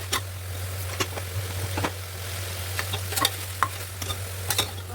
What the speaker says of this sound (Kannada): ಫಸ್ಟ್ ಟೊಮೊಟೊನ ಚೆನ್ನಾಗಿ ಎಣ್ಣೆಯಲ್ಲಿ ಹುರ್ಕೊಳ್ಳೋಣ